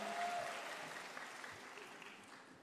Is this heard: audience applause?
yes